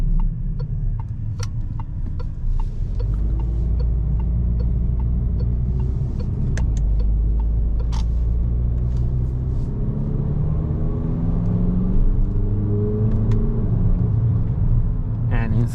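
Inside a 2021 Peugeot 5008 with a 130 HP BlueHDi diesel and EAT8 automatic, a steady low engine and road rumble holds throughout while driving, engine tones slowly rising and shifting, no voices heard.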